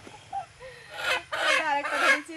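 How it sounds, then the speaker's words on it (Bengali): Several chickens, including a red rooster, cluck and squawk in agitated bursts close by as they are grabbed by hand, the calls rising into louder flurries toward the end. "তো একসাথে কিন্তু দুটো মুরগি ধরেছি।"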